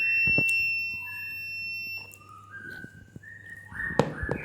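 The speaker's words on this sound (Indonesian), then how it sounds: "lalu buzzer berbunyi" An AI voice-command smartbox sounds its buzzer, a series of steady electronic tones at shifting pitches, some held for over a second, followed by a brief clattering burst near the end.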